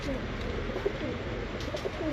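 Cooing of a Kamagar breed pigeon in a breeder's loft, soft low coos that repeat over a steady background hiss, fairly close and moderately quiet.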